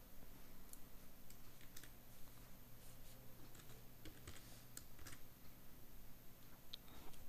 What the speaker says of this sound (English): I'm opening Notepad and I'm going to type something.